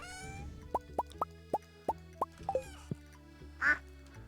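Cartoonish duck quacks from the farm animals in Stardew Valley, a rapid series of about eight short, evenly spaced plops and quacks, loud and close, with no talking.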